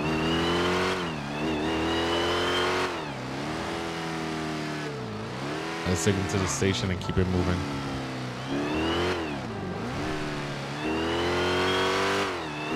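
A Dodge Durango's engine revs and drones steadily in GTA 5, rising and falling in pitch over steady traffic noise, with a brief burst of clattering around the middle and someone talking throughout.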